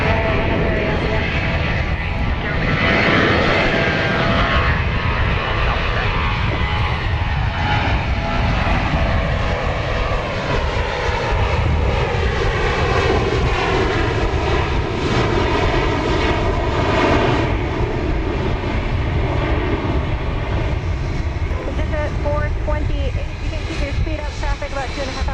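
A fixed-wing airliner takes off from a runway at Dallas Love Field, its jet engines roaring loud and steady throughout with a rising, shifting whine, while voices talk over the noise.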